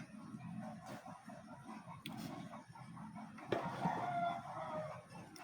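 Roosters crow in the distance near a breakfast spot, a few drawn-out calls rising over faint background chatter and ambient noise.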